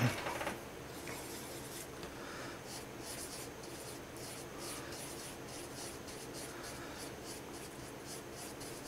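A graphite pencil shades clouds on paper with soft, close, continuous scratching and rubbing strokes, quiet and steady with light rhythmic pulses of motion.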